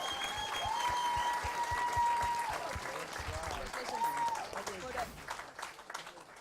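Audience applause for the winner at a kickboxing bout during a black belt open championship, a continuous burst of clapping from a crowd with a whistle-like tone over it and an announcer's voice under it, fading toward the end.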